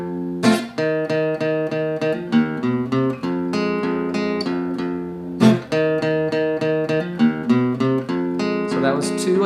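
Guitar plays a riff in its second-verse form, rapid repeated picked notes and chord stabs in a steady driving rhythm, close and alone for several bars with no talk.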